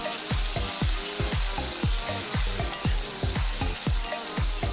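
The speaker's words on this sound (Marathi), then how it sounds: "बटाटा मस्त लालसर होईपर्यंत परतून घ्या." Thinly sliced potato sautés in a pan, with a steady sizzle and a rhythmic run of scraping stirs repeating roughly every half second, close and fairly loud, with no talking.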